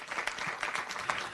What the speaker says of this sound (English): Big applause, everybody.